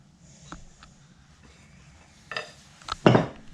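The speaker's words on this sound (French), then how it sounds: "Alors une petite maryse pour récupérer tout le chocolat." A small silicone spatula scrapes melted chocolate from a bowl while making an ultra-fondant chocolate cake, giving a few soft clinks and scrapes that build to a louder scrape-and-knock near the end in a quiet kitchen.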